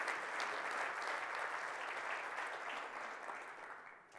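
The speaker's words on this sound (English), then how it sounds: "So give a round of applause for all the people here and all the great conversations you've had this week" Conference keynote crowd applauding, dense continuous clapping from a large audience that holds steady and then tapers off at the close.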